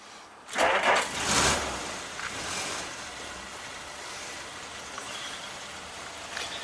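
A car engine cranks with the ignition on, giving a couple of short, loud bursts near the start before settling into a lower, continuous rumbling hiss.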